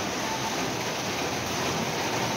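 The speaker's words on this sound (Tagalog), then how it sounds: "Maulan." Steady outdoor rainfall at a wedding venue, a dense even hiss of drops on surfaces, continuous and moderately loud with no voices.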